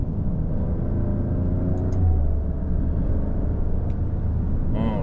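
A Maserati Grecale Trofeo engine pulls under light throttle from about 2000 rpm: a steady, dense low rumble from inside the car holds for the whole stretch with a slight swell midway and no talk.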